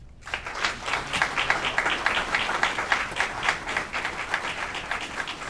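At a city council committee meeting, a room of attendees gives an even, sustained round of applause with fast, closely packed claps and no talking over it.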